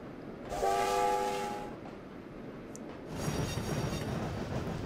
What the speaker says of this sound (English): We're going to get a good feel for the sounds of this train